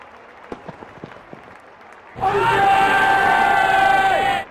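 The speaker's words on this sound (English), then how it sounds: "Crowd going mad here." Stadium crowd at a Pakistan vs Sri Lanka World Cup quarter-final cricket match erupts into loud, sustained cheering and roaring after a quiet stretch of scattered thuds, holding full volume for about two seconds before cutting off.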